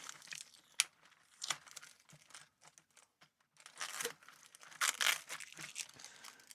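Adhesive tape is peeled and torn off a Commodore keyboard in close, crackling strips and rips, with quieter gaps between pulls and a sharp snap early on.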